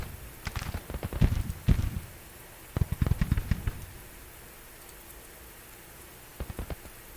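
Rainfall in the Civil War strategy game Grand Tactician: The Civil War, a steady hiss of rain with bursts of sharp, crackling impacts clustered near the start and middle, quieter patches between, and a few faint pops at the end.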